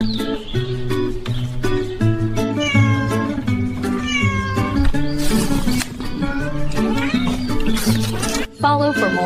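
Fluffy white kittens at a market meow repeatedly in quick, overlapping high-pitched cries. The calls are loud and close, and a few chirpy squeaks are mixed in.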